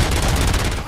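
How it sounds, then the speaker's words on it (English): A dense, loud burst of rapid gunfire in the RoboCop: Rogue City video game, one continuous second of overlapping shots. "Gunshots? What's going on?"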